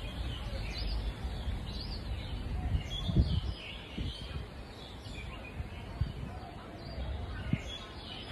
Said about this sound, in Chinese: 全都小鸟的声音